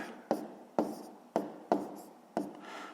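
A pen or pencil taps and scratches on paper in five short, evenly spaced strokes while column multiplication is written out by hand, quiet and close with no voice over it.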